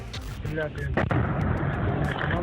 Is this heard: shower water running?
no